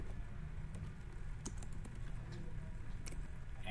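Typing on a computer keyboard, a steady run of soft, close key clicks with a few sharper taps, heard alone over a faint background hum.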